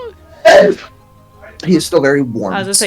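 A single sharp sneeze bursts out close by, followed after a pause by people talking.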